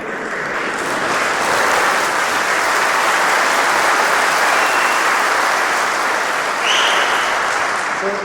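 A large audience claps continuously in a hall at a company anniversary celebration, sustained dense applause that swells slightly and holds loud for several seconds.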